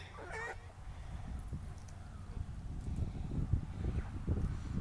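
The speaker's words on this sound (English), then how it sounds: "Here are the chicks." Young chicks kept in a pen cluck and cheep faintly at a backyard farm, with a brief louder call near the start and a low rumbling background throughout.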